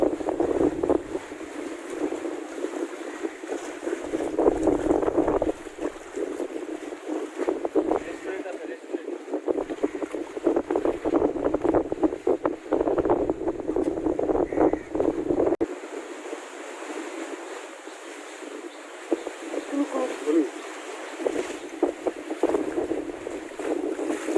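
Strong wind buffets the microphone continuously with a rumbling roar at Adinath jetty, Maheshkhali, water sounds underneath, and a voice speaks at times.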